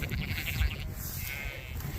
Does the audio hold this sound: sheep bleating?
yes